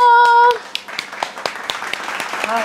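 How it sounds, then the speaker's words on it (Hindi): Hands clap to welcome someone, a scattered run of sharp individual claps following a brief electronic tone, close and fairly loud, with a voice coming in near the end. "तो चलो तालियों का उनका स्वागत करते हैं"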